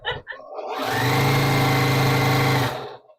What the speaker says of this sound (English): are you still sitting there listening to sewing machine run?